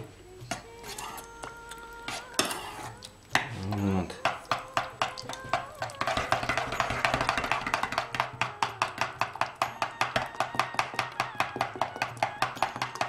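Fast, rhythmic clicking and scraping of a spoon against a bowl while mixing a dessert, speeding into a rapid steady beat; a few louder clanks early on, no speech.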